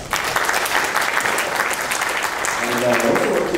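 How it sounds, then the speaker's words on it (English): Applause from an audience at a presidential search presentation, dense steady clapping filling the room from start to finish, with faint voices rising under it near the end. "How about a round of applause?"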